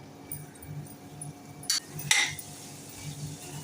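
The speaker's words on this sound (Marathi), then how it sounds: "आता आपण मशरूम घालूया" Mushrooms tipped into simmering gravy in a pan, a couple of sharp clatters of utensil against the pan over a quiet low hum, brief and close.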